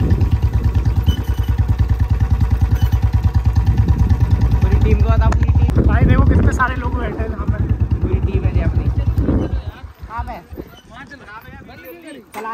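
A motorcycle is kicked over and over without starting, a rapid throbbing chug for the first several seconds, followed by people talking nearby.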